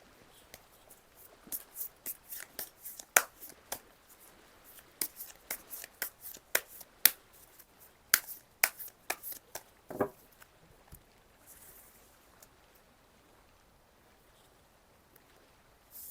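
Tarot cards shuffled by hand in a quiet room, a sequence of soft riffling bursts and crisp snaps in irregular rhythm, close and fairly faint, easing off toward the end with no speech.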